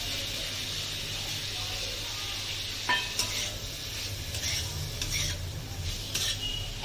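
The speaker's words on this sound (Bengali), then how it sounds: "এবার আমি দিয়ে দেবো সুইট কর্নটা।" Sweet corn tipped into a kadai of simmering chicken soup, giving a steady background sizzle with a few scattered clinks and scraping stirs.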